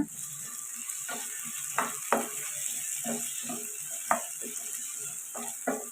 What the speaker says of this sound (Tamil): தக்காளி எடுத்து வச்சுருக்கிறதையும் சேர்த்துட்டு நல்லா வதக்கிக்கோங்க